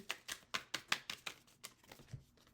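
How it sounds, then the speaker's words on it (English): Tarot cards being shuffled by hand, a quick series of about a dozen crisp riffling snaps, close and fairly quiet, fading slightly toward the end. "Shuffle one more time."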